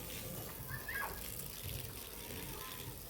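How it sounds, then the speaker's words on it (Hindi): Water poured in a steady stream from a large lota as an offering to the sun during a Karva Chauth morning ritual, a continuous splashing gush over outdoor background noise. "इनका लोटा बहुत बड़ा था, पानी भी भर भर के निकल रहा है"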